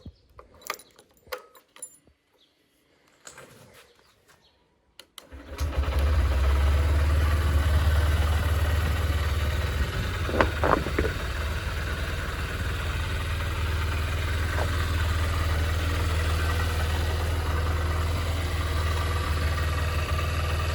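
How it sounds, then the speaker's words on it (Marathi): An old SS motorbike, started from cold, settles into a steady low idle that runs on after a few seconds of quiet handling and clicks, with a faint metallic jingle partway through. "आता आपण कोल्ड स्टार्ट करू बाईकला."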